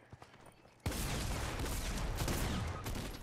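A dense burst of gunfire from a first-person shooter video game suddenly erupts after a quiet moment, then continues loud and sustained as a rapid, overlapping volley.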